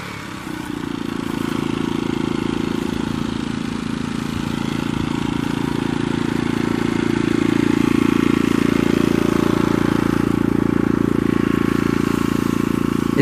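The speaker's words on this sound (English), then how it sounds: "Right now we're pumping up the tires." Tires on a 1967 Barracuda being pumped up, with a loud, steady motorized drone running without a break from start to finish.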